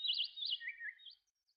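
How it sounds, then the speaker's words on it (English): Birds sing through open windows in a short burst of high, warbling chirps and tweets that fade to faint calls. "The room was filled with the sounds of birds singing."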